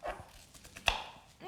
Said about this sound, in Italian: io la cipolla la sto facendo, la sto triturando abbastanza grossa, non piccola, grossolana